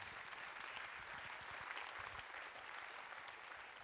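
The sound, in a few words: audience applause at festival opening ceremony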